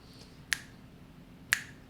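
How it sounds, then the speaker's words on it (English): Two crisp finger snaps about a second apart, sharp and close, keeping an even tempo over a quiet room hush. "You can either snap your fingers"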